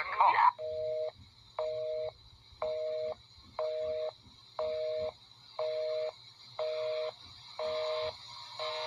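Telephone being dialed to call the cops, heard as a regular repeating tone pulse roughly once per second, nine steady beeps over a low hum, with no talking.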